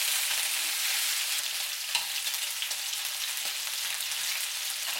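Pork spare ribs brown in a pan, giving a steady, close sizzle and crackle of hot oil with a few faint knocks and stirring sounds, and no talking.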